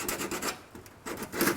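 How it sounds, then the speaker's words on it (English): Sanding block scrubbing rust spots on a car body panel in short repeated back-and-forth strokes, soft and close with a brief pause in the middle. "you could just use a sanding block and come right up on the edge"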